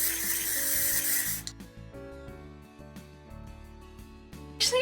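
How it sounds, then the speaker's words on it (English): An aerosol hairspray hisses in a long burst, then quiet shuffling and handling, followed by another short spray at the end. "now we're going to go ahead and grab our hairspray again, and I'm just going to spray"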